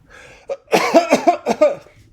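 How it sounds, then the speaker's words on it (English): A run of several harsh coughs in quick succession, close and loud, preceded by a short breathy sound. "You cough instead of cry."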